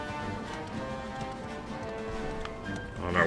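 Horse hooves clip-clop at a steady trot in Dragon Quest XI S, a continuous rhythmic clatter over background game music, with no talking.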